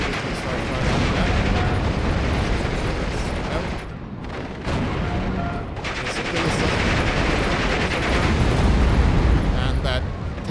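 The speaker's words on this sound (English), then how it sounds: "Now the Firefly is also going to get in the mix, and I'm going to immediately start firing on that" Steel Division: Normandy 44 battle with a British Firefly tank firing amid explosions; dense, continuous rumbling booms and gunfire, loud and close, with a brief lull midway before the barrage resumes.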